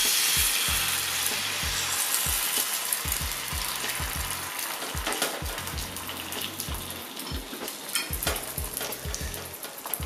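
An omelette cooking in a pan, its steady sizzle and hiss running throughout with repeated soft taps and scrapes of a utensil against the pan.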